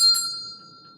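Small bell struck once, a bright clear ring that fades slowly with a long sustained tone, quiet and alone in a podcast setting.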